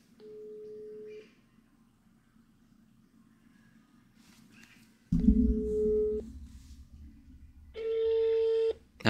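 A phone ringback tone sounds during an outgoing call: steady electronic tone bursts repeat with pauses, clear and moderately loud, with a short burst of another noise between rings.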